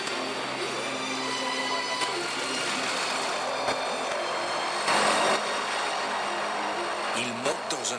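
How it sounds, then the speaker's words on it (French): Loud, steady roar of an aircraft engine fills the scene, a constant broad whine with a brief surge midway, voices faint underneath. "Il monte dans un avion."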